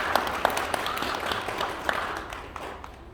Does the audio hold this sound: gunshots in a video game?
no